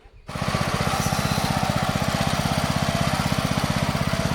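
A tractor engine on a Konkan farm at sowing time starts abruptly after a near-silent moment, then runs with a fast, even, close thumping beat that holds steady.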